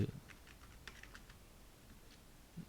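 Computer keyboard typing while a Thai message is entered in a screen capture tool, a quick run of soft key taps clustered early then trailing off into sparse clicks, close and fairly quiet with no talk.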